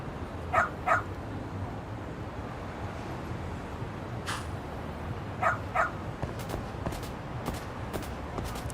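A dog in the video game Lost Judgment gives a few short barks in pairs, moderately clear over a steady background hum, with a couple of faint yips later.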